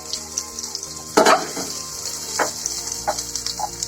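Garlic frying in a pan while pasta is being made, a continuous close hiss of oil sizzle with a loud stir clatter just after one second and lighter scraping taps later.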